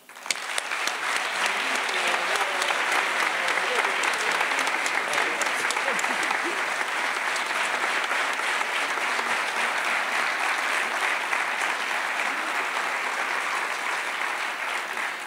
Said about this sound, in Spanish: Y con este fuerte aplauso te recibimos también ya en el escenario.